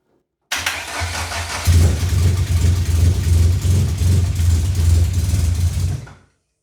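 The engine of a VW Jetta MK2 is turned over with a large screwdriver standing in for the starter, and it fires into a loud, close, steady low rumble that runs for several seconds, then cuts off abruptly.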